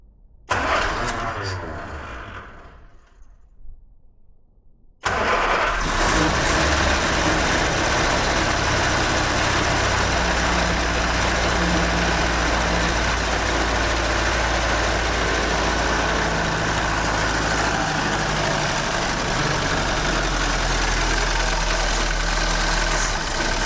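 A fire-damaged 1969 Ford Escort MK1 van turns over with a few faint cranks, then catches and runs loudly and steadily, a rough, close, continuous engine roar sustained to the end.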